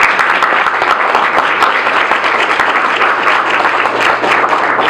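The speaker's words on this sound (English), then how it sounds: "we can give all of our panelists a round of applause again" A seated audience at a community panel event in Baltimore gives the panelists a round of applause, a dense, steady wash of many hands clapping that holds evenly from start to finish without a break.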